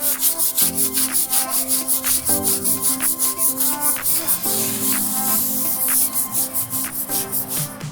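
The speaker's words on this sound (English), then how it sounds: "Spray one more time and just begin scrubbing." A brush scrubs a tire lathered with cleaning solution in quick, rhythmic back-and-forth strokes, a close, raspy swishing repeated steadily with light music in the background.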